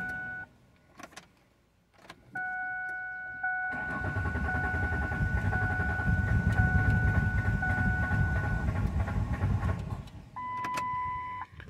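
A 1998 Ford Windstar minivan engine cranking after sitting for fourteen years, a long sustained starter grind of about six seconds that fails to catch, with warning chimes beeping before and after, close and loud.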